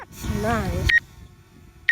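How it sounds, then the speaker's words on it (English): A drone's proximity warning sounds as short, sharp electronic beeps, two brief tones a second apart, following a burst of nearby talking outdoors. "whenever it's close to anything, it gives you a beeping noise"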